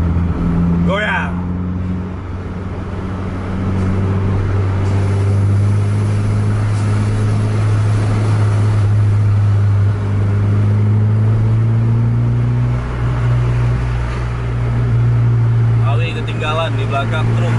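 Several buses racing side by side on an open road, their deep diesel engines droning and revving in sustained, shifting tones close by, with brief voices near the start and end.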